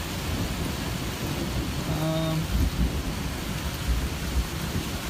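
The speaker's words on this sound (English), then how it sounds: "It has been some massive lightning and thunder." Heavy rain pours steadily during a thunderstorm on a trail, with a low thunder rumble building midway and lingering as the downpour continues close and loud.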